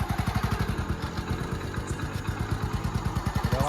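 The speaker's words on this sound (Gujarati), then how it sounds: "એ જો બાઈક તો આ તો આવ્યો" A motorcycle engine chugs close by with a rapid, regular mechanical pulse and a slight rattle, holding steady and then rising a little toward the end.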